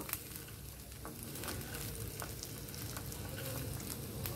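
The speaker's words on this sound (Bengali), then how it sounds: "তিন মিনিট মতো আমি ভেজে নিলাম চালগুলো" Rice grains fry in hot oil in a pan for Bengali-style peas pulao, giving a steady, close sizzle with soft stirring scrapes and light crackles throughout.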